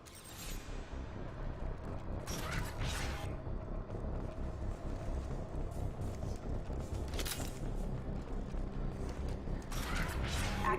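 A mechanical sci-fi door in Mass Effect 2 grinds and creaks open in a long, steady rumble. Sharper metallic clunks and hisses break through at intervals, with no voices.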